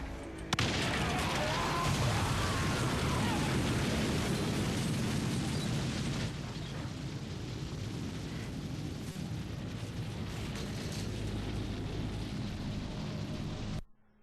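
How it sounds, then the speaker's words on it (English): An explosion from a Walking Dead episode, set off by a gunshot, rolls out as a long, loud, dense roar lasting more than ten seconds, then cuts off abruptly. "With a well-placed shot, Carol makes an explosive entrance"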